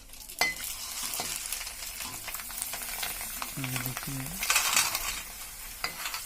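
Nalli pieces fry in hot oil in a kadhai, giving a steady crackling sizzle with a few metallic clinks of a utensil. It stays moderately loud and close throughout.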